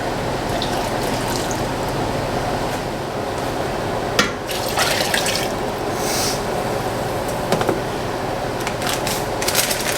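Water and vinegar pour steadily into a pot for a doubled batch of dill pickle brine, giving a constant rushing, splashing stream with a few brief clinks of the pot throughout.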